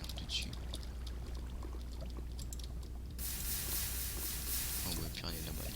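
A Minecraft water source block sends a steady, full rush of flowing water, loud and continuous, with a brief voice talking over it.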